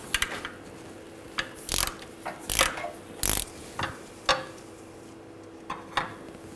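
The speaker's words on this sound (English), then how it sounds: "Using a E10 socket. Take the bolt out." A ratchet turns an E10 socket to remove a bolt on a 2006-2009 Mercedes-Benz E350 during a rear ABS wheel speed sensor job, giving close, irregular bursts of clicking with brief pauses between them.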